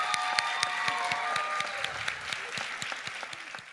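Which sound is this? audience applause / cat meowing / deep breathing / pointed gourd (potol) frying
audience applause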